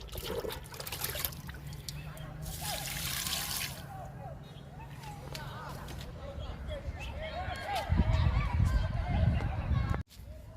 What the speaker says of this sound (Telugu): మిగతా మొక్కలకి కిచెన్ వేస్ట్ లిక్విడ్ ఇద్దాము.